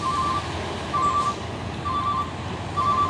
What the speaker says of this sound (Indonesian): Masuk lagi truk tronton Fuso Oren 6 kali 4 HD ini ya, muatan buah kelapa sawit.